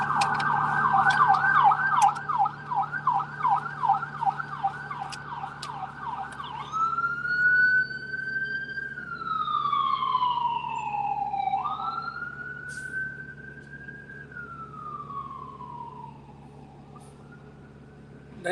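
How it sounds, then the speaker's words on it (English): An ambulance siren passes along Portland Avenue in Rochester, New York, starting as rapid yelping bursts, then switching to long rising and falling wails that fade as it moves away over street traffic. "That's an ambulance"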